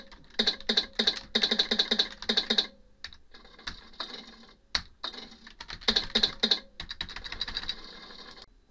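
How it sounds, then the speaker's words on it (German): Simulated keyboard typing plays in the Kunomail email program while a message is composed, with rapid clattering keystroke bursts and brief pauses, close and steady, no voices. "Es ist auch möglich, Tippgeräusche beim Verfassen einer E-Mail abspielen zu lassen."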